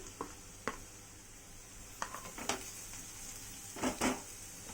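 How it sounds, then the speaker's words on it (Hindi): Chopped onions frying in a pan for a dhaba-style taro root (arbi) curry as garlic-ginger paste is added, giving a faint steady sizzle broken by a few sharp spoon scrapes and taps while stirring. "अब इसमें मैं 1 चम्मच के करीब लहसुन अदरक का पेस्ट ऐड करूंगी।"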